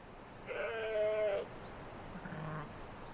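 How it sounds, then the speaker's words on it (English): A single sheep bleats clearly for about a second, followed by a fainter, lower bleat after a short pause, over quiet outdoor background. "Sheep were everywhere."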